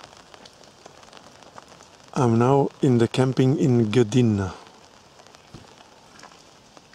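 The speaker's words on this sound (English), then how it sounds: "It's been raining for hours." Steady rain pattering on a tent at a campsite in Gdynia, continuous and soft, with someone talking close by over it for a few seconds.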